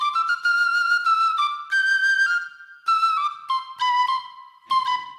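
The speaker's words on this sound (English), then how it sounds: "it's going to try and auto-tune my penny whistle" Penny whistle played alone in a live looper setup, a bright, close melody of sustained notes and quick runs with short gaps between phrases.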